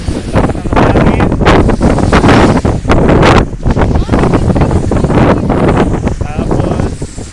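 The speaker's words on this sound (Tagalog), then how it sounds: "Lakas ng hangin." Strong wind by the sea buffets the microphone in loud, constant roaring gusts that bury everything else.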